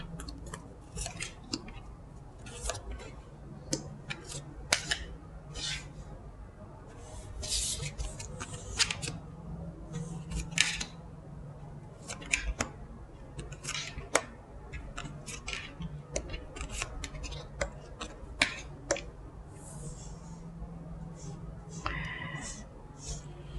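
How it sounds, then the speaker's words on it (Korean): Tarot cards are laid out one by one on a table, making soft slaps and light snaps that are scattered and irregular, close by and under quiet speech. "카드 나열 해보도록 하겠습니다"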